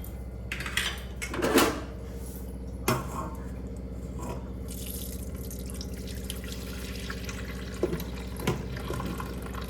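Milk being poured into a container to set yogurt, a soft liquid trickle and splash with a few light clinks of the vessel, close and moderate against a steady background hum, without speech.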